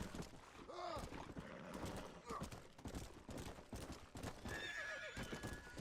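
Horse galloping in Red Dead Redemption on Nintendo Switch, rapid clip-clop hoofbeats with a whinny, mixed with game effects and a voice talking over it.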